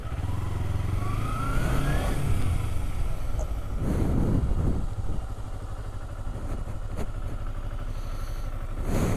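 A motorcycle engine in a video game revs and accelerates, its close, loud drone climbing in pitch and then settling into a steady run with some clattering.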